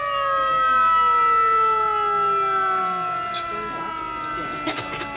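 A siren wails loudly, its tone sliding slowly downward as it winds down, with some faint clatter near the end.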